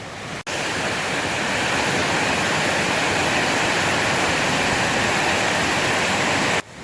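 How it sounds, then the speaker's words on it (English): Raging rapids roar in a steady, loud, unbroken wash of rushing water that holds for several seconds, cutting off briefly at the very start and end. "it sounds like water flowing"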